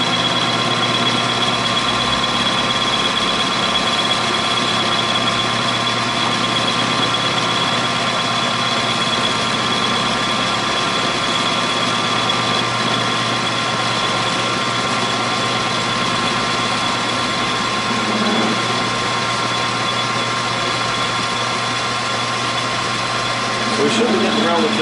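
A machine tool runs with a steady hum and a faint mechanical whine while a cutter is hand-fed into a light fixture base, holding an even level for the whole stretch.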